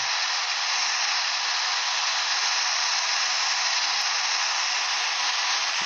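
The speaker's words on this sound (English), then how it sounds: "Now that's the roar of the engine." Steady, hissing broadband roar of a Cessna 172 Skyhawk engine in a flight simulator game, constant and unbroken throughout, with no voices.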